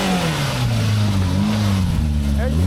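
An off-road vehicle's engine drones and revs steadily up close while accelerating on a dirt trail at Tackett Creek, Wolf Pen Trails in Tennessee, its pitch rising and dipping under a continuous loud roar.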